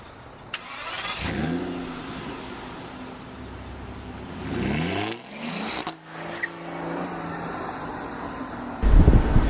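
A 2012 Aston Martin Virage Volante convertible pulls away and accelerates hard through several gear changes, its engine note climbing and dropping in loud, close sweeps with steady road and wind noise.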